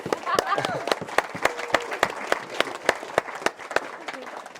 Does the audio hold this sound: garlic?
no